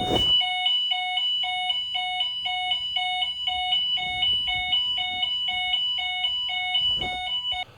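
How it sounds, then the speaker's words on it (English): A loud hotel fire alarm repeats a rapid, regular beeping pattern, with some rustling and movement noises underneath. "and it was the fire alarm."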